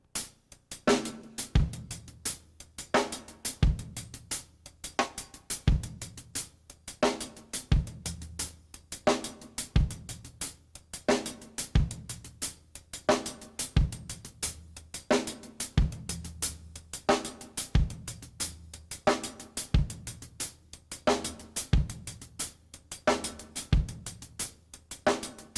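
A drum kit plays a steady funk groove with punchy kick and snare accents falling in a regular pulse over crisp hi-hat, loud and close with no talking.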